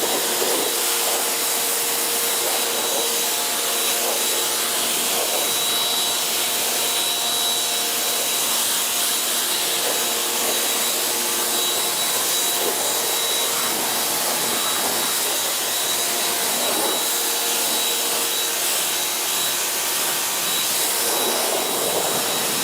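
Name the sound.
pressure washer rinsing dirt off a BMW Z4 car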